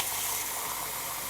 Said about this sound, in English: let me just pop some more hot water in here actually